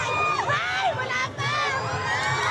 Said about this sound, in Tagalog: tumitili na yung mga kababaihan doon